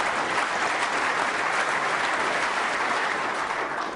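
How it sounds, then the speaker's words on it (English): A snooker crowd at the 2011 World Championship final claps warmly after a difficult cut, a dense, steady wall of applause that holds at full strength from start to finish. "The crowd warmly appreciating how difficult that cut was."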